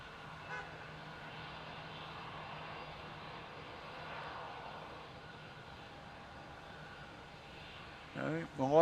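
A Jetstar airliner lining up on runway 16 at Melbourne Airport, heard as a faint, distant, steady jet-engine roar that holds level throughout, with a short burst of nearby noise at the end.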